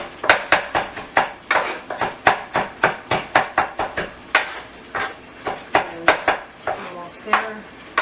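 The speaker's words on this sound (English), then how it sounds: "So I'll just keep chopping until I can get that nice and fine." Knife chopping tomatoes on a board for chunky tomato salsa, a quick steady run of sharp close-up chops with a few brief pauses.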